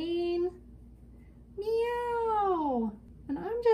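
A person imitates a cat meowing, giving several drawn-out, rising and falling meows in a clear, close voice with pauses between them.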